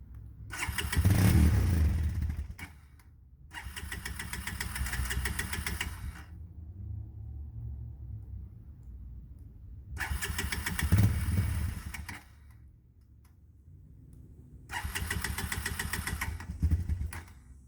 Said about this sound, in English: This carburetor, it wants to start, okay, but it doesn't seem to be sucking up the fuel